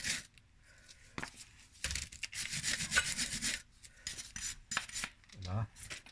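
Brisk scrubbing strokes of a brush over rear brake parts, dry rasping bursts in uneven rhythm with short pauses and a few light metallic knocks, close and fairly quiet.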